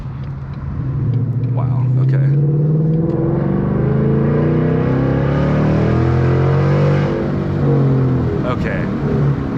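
Ford Mustang GT with a Lund Racing tune, driven in normal drive mode with the exhaust in track mode, pulls hard, the engine's deep exhaust rumble climbing steadily in pitch through the gears, loud and close from inside the car, with someone speaking briefly.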